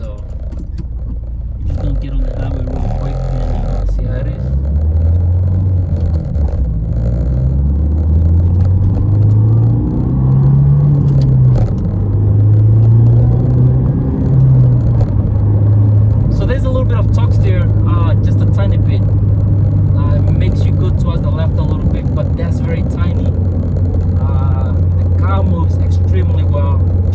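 A 2015 Ford Fiesta ST accelerates onto a highway, its engine note climbing through gears with rising and falling pitch before settling into a steady droning cruise, with road rumble throughout and brief talk inside the cabin.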